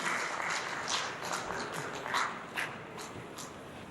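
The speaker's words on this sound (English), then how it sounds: "A round of applause for the pan-national president." An audience applauds as the Pan-National president is called onstage at a soya coalition event; the clapping is fairly faint and distant, a soft continuous patter with a few sharper claps standing out.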